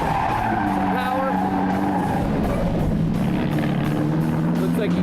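A car drifting with tires squealing in long wavering whines over a loud, revving engine, close and continuous for several seconds, with speech under it.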